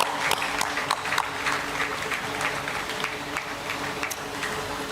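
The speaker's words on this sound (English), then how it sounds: "Shall we do a big round of applause for them?" Applause for staff at a live event: a crowd clapping steadily for several seconds, dense and fairly loud with individual claps popping out.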